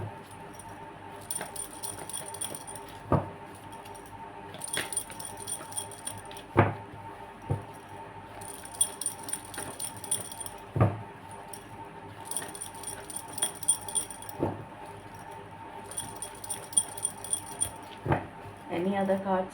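Tarot cards are shuffled by hand in quiet, repeated bursts of papery riffling and light clicks, separated by brief pauses, close to the microphone.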